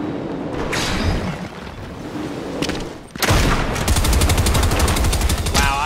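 Rapid gunfire in a video game shooter, with scattered shots early on, then a loud, dense burst of sustained automatic fire from about three seconds to the end.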